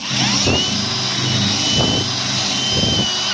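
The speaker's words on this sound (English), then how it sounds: "I think I probably picked the bluntest drill bit in my whole toolbox" A power drill with a blunt bit whines steadily while drilling out rivets on a car door, loud and close, with three rising grinding surges as the bit bites.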